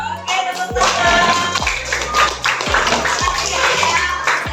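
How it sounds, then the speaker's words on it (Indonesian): A classroom of students clapping hands in applause, a dense, lively patter of many hands, loud and close, continuing for several seconds with some voices mixed in. "Oke, tepuk tangan."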